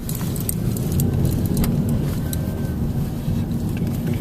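A big truck drives past on a walk through a nature park, a loud, steady engine rumble and road roar filling the whole stretch, with a jangling rattle on top.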